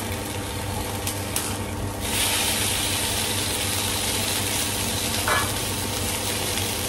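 Steady sizzling of food frying in a pan, a continuous hiss close by with a faint low hum underneath and no talking.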